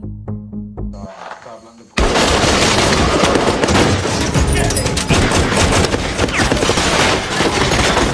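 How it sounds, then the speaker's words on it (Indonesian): After a short muffled lead-in, dense gunfire erupts and keeps going, loud rapid shots and bursts with voices shouting underneath. "ketika masuk ke dalam ruangan tersebut, mereka pun harus disambut dengan tembakan"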